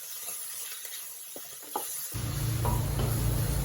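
Quiet stirring at first, then a loud steady sizzle as banana stem and vegetables sauté in a hot pan for chutney, with occasional scraping clinks.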